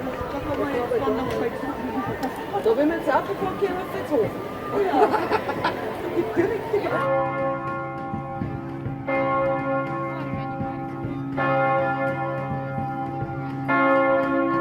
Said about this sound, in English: The midday church bell ringing commemorates János Hunyadi's great victory over the Turks in 1456.